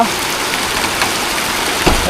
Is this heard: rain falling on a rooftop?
yes